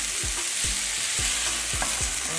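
Vegan pasta ingredients with sausage and ginger fry loudly in a pan, a dense constant sizzle with regular scraping strokes of a spoon about every half second.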